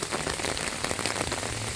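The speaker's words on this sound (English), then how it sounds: "the puddles have got the rain in there, and you can actually hear it against the umbrella" Steady rain patters on puddles and on an open umbrella overhead, a dense, even hiss of close drops with no voices.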